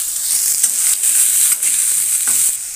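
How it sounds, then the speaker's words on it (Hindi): Chopped potato and eggplant frying for a red spinach (lal saag) dish, a loud, close, steady sizzle with occasional scraping stirs, and no voices. "अभी इसको थोड़ा सा भाज लेंगे अच्छा से"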